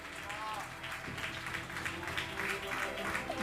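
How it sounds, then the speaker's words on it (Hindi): A congregation claps together in a church service, a soft, steady patter of many hands heard fairly distant, with voices mixing in underneath. "जोर से ताली बजाकर प्रभु को धन्यवाद दें"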